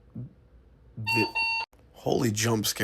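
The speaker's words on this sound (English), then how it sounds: "that was my alarm to wake up" An alarm clock gives short electronic beeps in a quick burst, loud and clipped, between stretches of a person talking close by.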